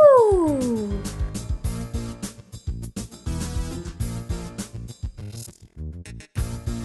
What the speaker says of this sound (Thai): เอ๊ะ แมว